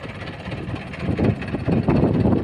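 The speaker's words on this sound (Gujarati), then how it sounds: "પાવરફુલ ટ્રેક્ટર આખું" A 2004 Mahindra 475 DI tractor engine runs steadily up close, a low rumbling drone that gets louder and rougher partway through.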